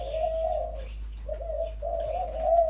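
A spotted dove (Streptopelia chinensis) coos close by in three low, drawn-out phrases separated by short pauses, with faint chirps in the background and no talking.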